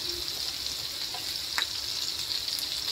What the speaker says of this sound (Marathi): थोडंसं परतून घेऊया.